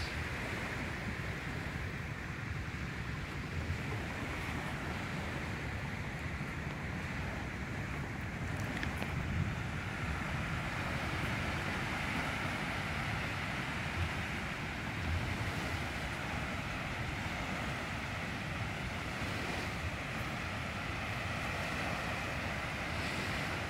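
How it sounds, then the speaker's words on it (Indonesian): Small sea waves wash onshore near pine trees while sea wind rushes steadily, a continuous broadband roar with gentle swells and no voices. "Gelombang nggak begitu besar,"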